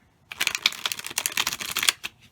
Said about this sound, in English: I'm just going to shuffle my 5-cent tarot